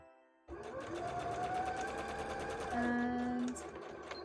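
Sewing machine running a straight stitch on a bra, starting abruptly and then humming steadily with a rapid needle rhythm, speeding up slightly toward the end.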